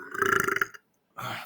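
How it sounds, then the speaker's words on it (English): A man lets out a loud, close, gurgling belch, then after a brief silence a second burp begins. "I got loud burps in for you guys"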